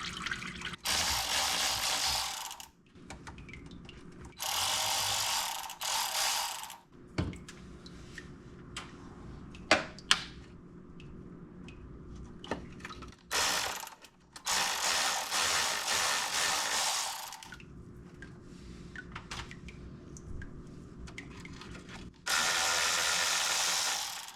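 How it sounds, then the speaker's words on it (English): Ratchet wrench loosening the transmission pan bolts on a Jeep Cherokee XJ, in repeated bursts of rapid close clicking separated by pauses and occasional clanks. "then I'll remove the bolts on the opposite side of the pan"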